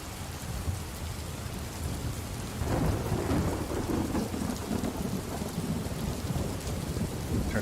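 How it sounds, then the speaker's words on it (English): Rain pours steadily while thunder rolls in, a low rumble swelling about midway and lingering under the continuous hiss of drops on surfaces, with no talking. "Turn this rain down just a touch."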